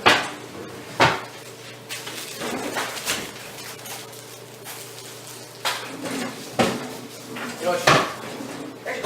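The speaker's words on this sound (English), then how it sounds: "next you're going to want to put it on your cast iron pan" Food set into a cast iron pan at a Civil War-style cooking setup, with clanks of cookware and clattering handling noises scattered through, some sharp knocks, over a low steady background hum.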